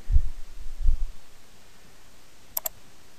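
Two quick, crisp computer mouse clicks sound close together in OrCAD PSpice, following a couple of dull low thumps over quiet room hiss.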